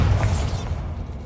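Casting the Bombarda spell in Hogwarts Legacy sets off a short, close burst and boom, then a brief rumbling tail that dies away within about a second.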